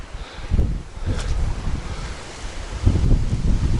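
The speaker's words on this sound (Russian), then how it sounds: "70 сантиметров высотой волны" Choppy river water in waves about 70 centimetres high slaps and surges close by a boat, with heavy wind buffeting the microphone, the roar swelling in uneven bursts.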